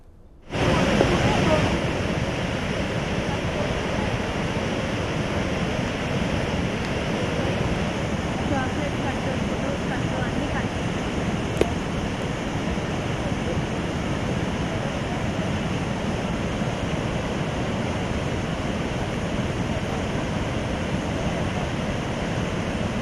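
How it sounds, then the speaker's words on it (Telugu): Floodwater of the swollen Vamsadhara river rushing toward a barrage after heavy rains, a loud, steady broadband roar that begins abruptly and holds unbroken throughout. "వంశధార ఉప్పొంగి ప్రవహిస్తుండటంతో గొట్టా బ్యారేజ్కి నీటి మట్టం పెరిగింది."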